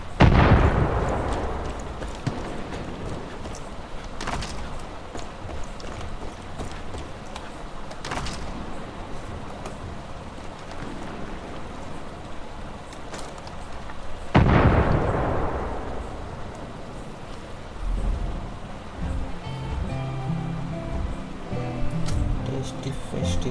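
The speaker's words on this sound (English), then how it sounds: "Rocket launcher silver." Rocket launcher blasts in Far Cry 5 gameplay: two heavy booming explosions, one at the start and another midway, each with a long rumbling decay, and lighter pops and bursts between them.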